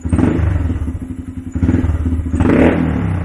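A rebuilt Honda Grom motorcycle engine runs close by, its throttle blipped up from idle in three quick revving bursts with mechanical clatter between them.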